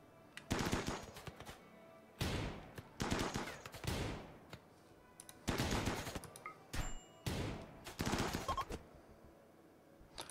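Rapid automatic gunfire crackles during a pirate ambush in the video game Rimworld, arriving in several loud separated bursts of quick shots with brief pauses between them.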